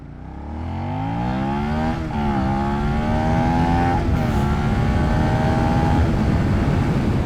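A 2022 Suzuki SV650 motorcycle accelerates hard, its engine note climbing steadily through the gears with brief dips at each shift, loud and close throughout.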